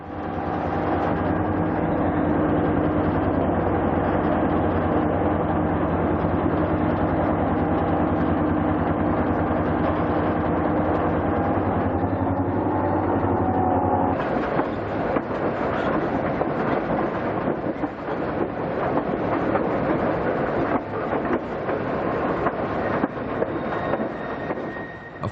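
A diesel passenger train, the Zephyr, climbs a twisting mountain railroad, its engines droning steadily with tonal hum, then shifting to a rougher rolling rumble of cars and wheels, loud and continuous with no talk.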